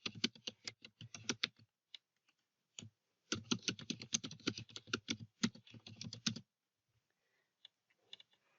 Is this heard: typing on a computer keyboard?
yes